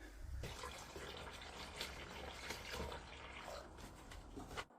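Water being poured in while filling a system for a liquid-air engine, a soft continuous splashing trickle at low level with small bubbling bursts throughout.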